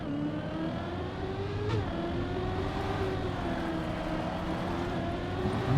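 Car engine droning steadily in Trackmania as the car runs over a dirt section, a continuous mid-level hum with harmonic bands and a slight pitch shift partway, with no voices over it.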